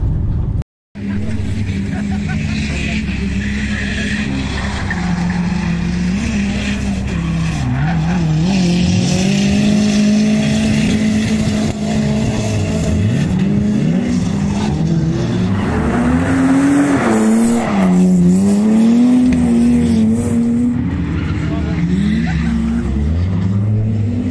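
A turbocharged BMW 318ti engine revs hard and close at a race track, its pitch climbing and dropping in repeated surges with a loud, continuous roar throughout.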